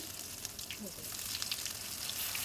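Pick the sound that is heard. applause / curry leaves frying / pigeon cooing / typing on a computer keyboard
curry leaves frying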